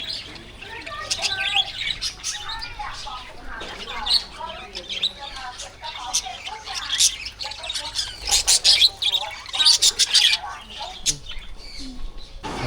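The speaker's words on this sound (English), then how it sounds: "And there are birds." Birds chirp and tweet busily in the grounds of a Bangkok temple, a lively scatter of bright calls and squawks coming and going, fairly close, with faint background murmur.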